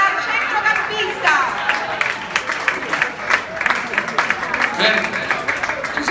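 An audience applauds a player, Ferdinando Giordano, introduced before a charity football match in Pescara, with steady clapping and crowd noise running under a loud announcer's voice throughout.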